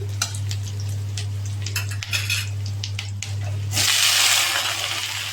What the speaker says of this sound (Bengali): ভেন্ডি ভালো করে ভেজে নেব।